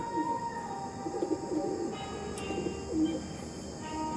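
Soft, muffled pigeon coos from Andhra, Arshad and Chennai breed birds, low and intermittent against a steady background hum and faint chirps.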